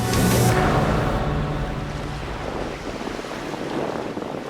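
Sea waves surge and wash around the Gigantes Islands off Carles, Iloilo, a loud rushing roar with strong wind buffeting the microphone, hinting at a boat motor beneath the broadband noise.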